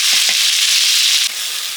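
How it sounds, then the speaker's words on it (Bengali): Potatoes frying in a pan for a spicy chorchori, a steady close hiss of oil with two soft knocks near the start and a slight drop in the sizzle toward the end. "আলুটা একটু ভাজা ভাজা হলো"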